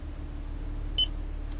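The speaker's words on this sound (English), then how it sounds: "And it beeps." A single short electronic beep from a Toyota Lockpick tool rings out over a steady low background hum, then quiet hum continues.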